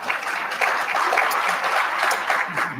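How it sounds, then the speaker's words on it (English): An audience at a leadership conference breaks into steady, dense applause that fills the room, with many hands clapping continuously throughout the short stretch. "Go ahead and clap."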